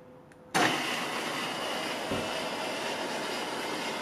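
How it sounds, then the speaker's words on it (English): A milling machine spindle in low gear switches on to run an auto-feed boring head on an air-cooled Volkswagen cylinder head; after a quiet start the motor kicks in abruptly and settles into a steady, loud whirring drone. "turn the spindle on"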